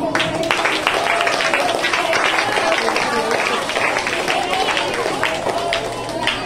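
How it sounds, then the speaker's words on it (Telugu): Audience applause for a school group called Future Leaders at a Hindi Diwas school event: dense, steady clapping from many hands fills the whole stretch, with a busy crowd murmur underneath. "Give clap for them."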